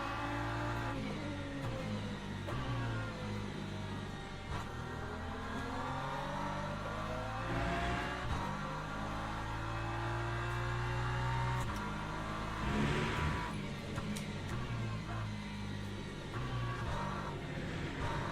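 Race car engine in the Le Mans Ultimate sim, damaged at the rear left, droning steadily and loudly throughout with rising and falling revs through shifts and corners; no talking.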